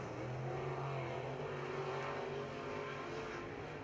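Modified race cars at Red River Co-op Speedway roar around the track at a distance, a steady blended engine drone with slight rises and falls.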